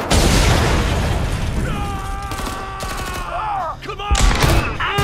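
A grenade blast in the video game Homefront The Revolution: a loud opening explosion with a rumbling decay, then scattered gunfire, pops and mechanical clatter under shouted voices.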